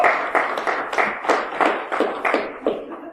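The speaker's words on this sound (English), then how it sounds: "Where's my applause?" At a security conference talk, a small audience claps in response to the presenter, a loose run of separate, fairly close hand claps in an uneven rhythm.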